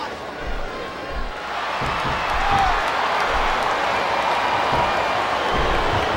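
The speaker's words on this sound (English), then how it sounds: "This capacity crowd is making their opinions known tonight" Capacity crowd roaring and cheering in a wrestling video game arena, a steady dense wash of noise that swells after the first couple of seconds and holds loud throughout.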